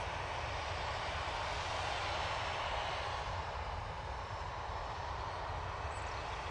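A Ryanair jet airliner bound for Belfast runs its engines at an airport, a steady, fairly loud broadband roar with a deep low rumble that holds constant throughout, with no voices.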